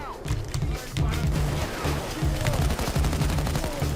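Rapid bursts of automatic gunfire in the heist shooter Payday 2, loud and continuous with repeated shots layered over one another, while someone talks throughout.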